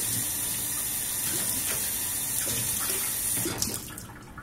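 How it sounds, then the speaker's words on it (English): A container is rinsed out under a running water tap, a steady close rush of flowing water that thins and breaks up into splashes near the end. "I'm just going to wash this out."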